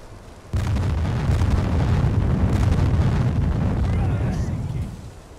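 In a U-boat submarine video game, a torpedoed ship explodes and its spilled oil burns, a sudden loud blast giving way to a sustained roaring, crackling rumble that slowly fades.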